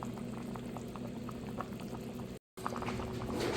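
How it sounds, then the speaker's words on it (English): A pot of ham bone broth with potatoes boils steadily at close range, a continuous bubbling roar broken by a brief dropout near the end before the bubbling resumes. "That broth heating just right now."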